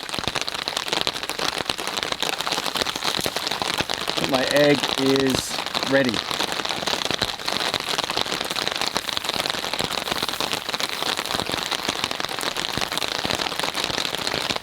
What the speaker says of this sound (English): I want you to hear the ambience of the rain on the top.